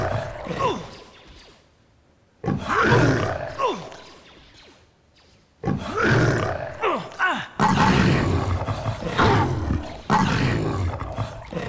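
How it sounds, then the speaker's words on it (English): Rakghoul monsters roar and snarl in combat in the Star Wars KotOR video game, with loud bursts of growling that stop and restart with short quiet gaps between them. "the Rakghouls are a little loud"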